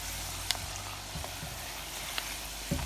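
Prawns fry over medium heat, a steady broadband sizzle with a few sharp crackles and pops scattered through, close and continuous, no voices.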